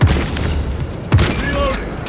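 Orbital guns fire in the video game Space Marine 2, landing as two heavy booming blasts about a second apart over a constant loud rumble of battle.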